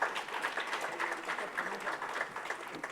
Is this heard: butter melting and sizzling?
no